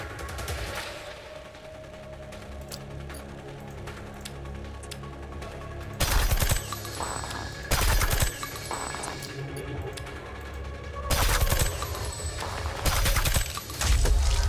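Turret gunfire in the video game Reverse Collapse: Code Name Bakery, with a steady crackle of game effects broken by two loud, dense bursts of rapid shots, no talking.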